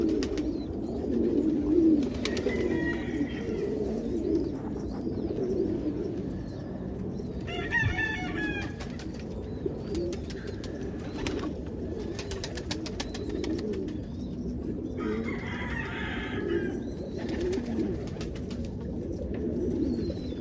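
Soft, repeated cooing of a red frost stencil pigeon hen in a coop, with occasional clucks and crowing calls from other birds over a steady low background hum.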